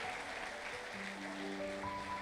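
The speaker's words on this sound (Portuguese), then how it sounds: "Aplaude o Espírito Santo, aplaude" A church congregation applauds in a steady, continuous wash of clapping over sustained musical tones, fairly distant and even in level.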